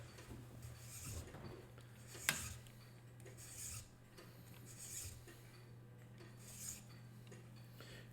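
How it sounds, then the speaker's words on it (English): A hand file rasping in short, repeated strokes along the edge of a wooden violin bow frog to cut a small chamfer, each stroke close and fairly quiet, with one sharp tap partway through. "I'm going to file on a chamfer."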